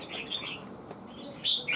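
Red-whiskered bulbul in a cage gives a few short, faint chirps with light wing flutter, including a brighter burst near the end, against quiet background.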